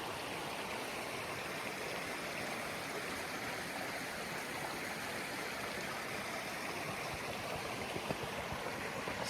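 Curry Creek, on the Appalachian Trail in Virginia, rushes in a constant broadband stream of water, close and steady for the whole stretch with no voices.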